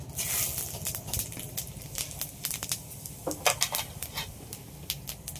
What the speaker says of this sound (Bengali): তেলের মধ্যে ফোড়নে দিয়ে দিচ্ছি জিরে আর তেজপাতা।